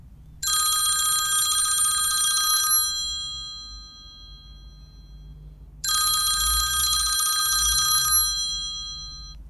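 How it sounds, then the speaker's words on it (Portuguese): A residential landline telephone rings twice, each a bright, loud trill of about two seconds, separated by a pause of roughly three seconds, with a quiet television-like murmur underneath. "Minutos depois, a linha residencial toca uma vez mais."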